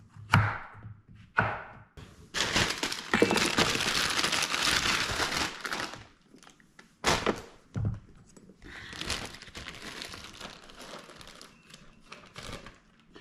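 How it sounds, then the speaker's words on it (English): A knife rough-chops zucchini on a cutting board in a series of loud, close, crunchy chops, with a long sustained burst in the middle and scattered sharp cuts after, no talking. "We're just gonna rough chop these because we're putting them into the blender anyways."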